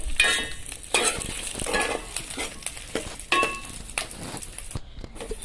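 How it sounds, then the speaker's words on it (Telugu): Onions fry and sizzle in a pan for garlic chutney, with steady crackling broken by repeated stirring scrapes and occasional light clinks of a utensil, close and moderately quiet. "ఉల్లిపాయలో వేసుకుని పచ్చివాసన పోయే వరకు వేపుకోండి"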